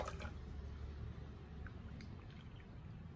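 Water poured from a measuring container into a pot for millet porridge, a steady close trickle and splash running the whole time with a low continuous rush beneath.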